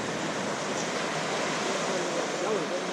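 Ocean surf on the California coast washing up onto the shore, a steady, loud broadband rush of breaking water with no gaps across the whole stretch.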